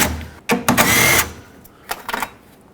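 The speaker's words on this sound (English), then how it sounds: "So two 10mm bolts, remove those, and then pull this bracket away." Two 10mm bolts come off a radiator fan bracket on a 2007-2010 Chrysler Sebring, heard as a few short, close ratcheting bursts of a hand wrench with brief pauses between them.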